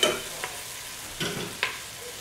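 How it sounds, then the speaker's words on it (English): Onions frying in a pot and being stirred, with a soft steady sizzle broken by three brief scraping strokes, close and alone. "Go ahead and give it another good stir."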